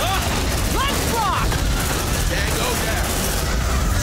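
Sentry guns blast away in the video game Aliens: Dark Descent, a dense, continuous roar of rapid automatic fire with chirping tones, with voices talking over it.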